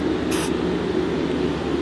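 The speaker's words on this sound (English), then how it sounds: "the way that I'm gonna figure out where I need to grind off is by using spray paint as a layout fluid" A short hiss of a spray paint can spraying layout fluid onto metal during the restoration of a Fairbanks power hammer, one brief burst over a steady low hum of machinery.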